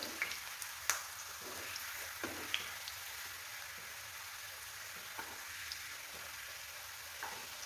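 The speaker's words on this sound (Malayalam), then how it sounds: "എണ്ണ നന്നായി ചൂടാക്കണം അതിന് ശേഷമാണ് ഇട്ട് കൊടുക്കാൻ പിന്നെ ഒരു മീഡിയം സൈസിൽ ആക്കിയിട്ട് ഫ്രൈ ചെയ്തെടുത്താൽ മതി" Snacks deep-frying in hot oil make a steady, dense crackling sizzle with scattered sharper pops, close and continuous throughout, with no talking over it.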